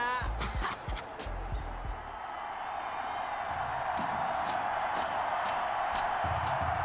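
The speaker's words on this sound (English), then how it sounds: "the crowd is loud and on its feet as Alan Myers gets things started." A loud stadium crowd in the video game Madden NFL 21 roars and cheers continuously, with scattered bounces and squeaks early on, a dense wall of noise throughout.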